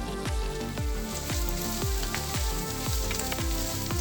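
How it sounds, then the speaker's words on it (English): Potatoes sizzle and fry in oil in a hot pan, a steady, dense, close crackle with a regular repeating pulse throughout and no talking. "While the potatoes are sizzling, we just want to make sure that they get a nice golden brown color on the one side."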